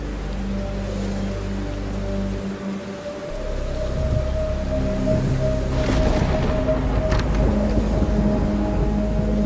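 Heavy rain pours on a dark night in a horror cartoon, a constant hissing downpour with a low rumble of thunder swelling partway through. No one speaks over it.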